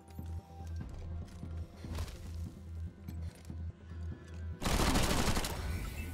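Gunfire in Wasteland 3, a steady rhythmic run of repeated shots over a low pulsing music bed, ending in a loud sustained burst of rapid fire.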